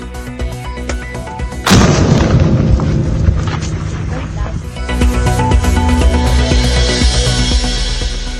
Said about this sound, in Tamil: பாகிஸ்தான் வீசிய ஏவுகணையை வெடிக்க செய்த தேசிய பாதுகாப்பு படை